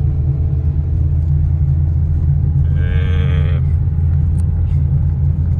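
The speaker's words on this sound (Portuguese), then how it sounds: "E aí vamos dar uma volta aqui só para sentir o carro um pouco na estrada." Chevrolet Prisma 1.0 Joy, a 2019 sedan with a 1.0 engine, driving on the road: a steady, loud low engine and road rumble throughout, with a brief higher-pitched whine or squeal partway through.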